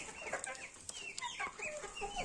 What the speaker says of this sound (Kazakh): Мұнда да тауықтар жүр.